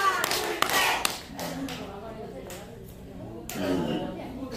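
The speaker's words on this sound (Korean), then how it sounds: "박수 세 번 시작." At a trot singer's fan-meeting concert, a few quick claps and thuds burst out at the start, followed by scattered quieter taps over a dull room hum, with another louder clap near the end.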